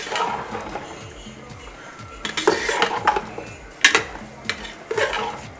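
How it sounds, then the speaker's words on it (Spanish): Onion and peppers being stirred in a cooking pot for Dominican rice and beans, with a spoon repeatedly clanking and scraping against metal in uneven bursts, fairly close and clear. "Le voy a agregar la cebolla y los ajíes. Vamos a moverla muy bien."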